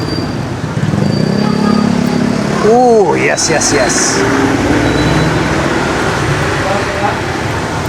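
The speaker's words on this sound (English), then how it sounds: "Hopefully you guys are not having too much of a hard time hearing me with all of the back and forth traffic." Street traffic passes back and forth at a roadside eatery, a steady loud rumble of cars and motorcycles, with a speaker briefly talking over it partway through.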